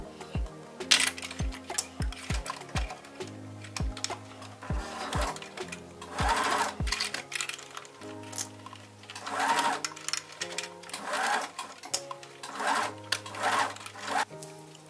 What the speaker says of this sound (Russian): Сшиваем наружную и внутренние детали.